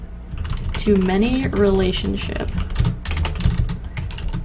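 Rapid clicking of a computer keyboard runs beneath a person talking, the keystrokes close and steady throughout.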